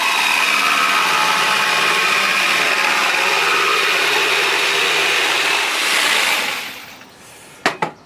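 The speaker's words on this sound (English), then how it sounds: "I'm going to take a jigsaw and just cut them around" A jigsaw cuts a rounded edge into 1x3 wooden boards, a loud continuous buzzing rasp that runs for about six seconds, then winds down and stops, followed by a couple of sharp knocks.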